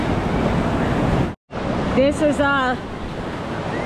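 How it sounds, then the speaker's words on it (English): Ocean surf rolling onto Cocoa Beach, a steady broad wash of waves with wind buffeting the microphone, briefly cut out, then continuing as someone speaks over it. "But aren't the waves gorgeous?"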